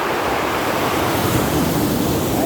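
Sea waves breaking on a provincial shore, a loud, dense and continuous wash of surf roar with no break.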